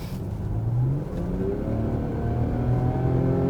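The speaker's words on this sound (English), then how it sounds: "we've got the supercharged V6 petrol." A supercharged V6 petrol engine in a Range Rover Velar revs and settles in a deep, throaty drone, with rising pitch sweeps as the throttle opens, close and fairly loud.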